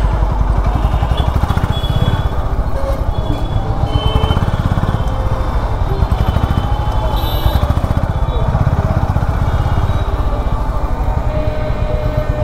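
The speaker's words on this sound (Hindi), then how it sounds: "तो ट्रैफिक देख लो कितना है।" Busy Delhi street traffic in extreme heat, motorcycle engines droning continuously nearby, a constant rumbling mix of vehicles passing with no pauses.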